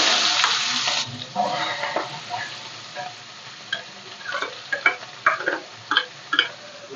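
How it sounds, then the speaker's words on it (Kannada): Sliced onions fry in oil with fennel seeds, cloves and cinnamon, opening with a loud bright sizzle that settles into a softer hiss punctuated by sharp clicks and scrapes of stirring. "ಈರುಳ್ಳಿ ಚೆನ್ನಾಗಿ ಫ್ರೈ ಆಗಲಿ, ಮೆರೂನ್ ಕಲರ್ ಬರಲಿ ಈರುಳ್ಳಿ"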